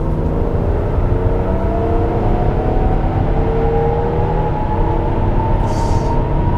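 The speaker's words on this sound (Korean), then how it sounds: "거의 4800 정도 RPM까지 올라가면 자동으로 변속이 되네요" An Audi Q7 45TDI quattro SUV accelerating hard from a start, its diesel engine revving up to around 4800 RPM before an automatic gear change, a steady loud drone with rising whirring tones throughout.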